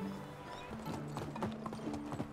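A donkey's hooves clip-clop on a path in the medieval village game Medieval Dynasty, a quick irregular run of close hoof knocks over faint background ambience, with no talking.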